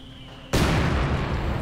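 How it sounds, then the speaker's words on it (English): A mortar round in the Company of Heroes 2 game explodes with a sudden loud broadband blast after a quiet ambient lead-in, the rumbling burst sustaining to the end. "Mortar rounds going down there."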